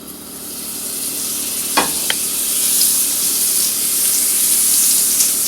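Butter sizzles steadily in a hot non-stick pan at high heat before searing scallops, a continuous bright crackling hiss with a couple of brief clinks near the start, close and fairly loud, no talking.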